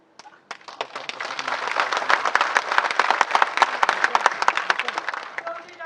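A political rally crowd breaks into applause: scattered claps quickly swell into dense, sharp clapping that stays strong and then tapers slightly toward the end.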